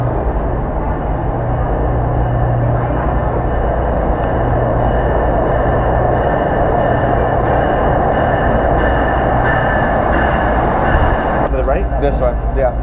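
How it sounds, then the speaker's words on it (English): A train pulls in and runs past at a station platform, a loud steady rumble of wheels and carriages with a brief metallic squeal near the end, continuous throughout the whole stretch. "Here's our train."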